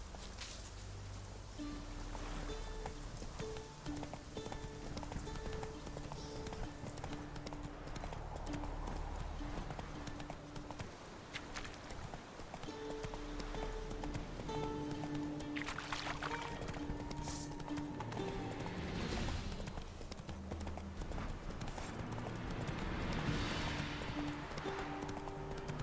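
Hoofbeats of the horse Roach from the video game The Witcher 3, a steady clip-clop rhythm running the whole time, layered with ambient game music and effects.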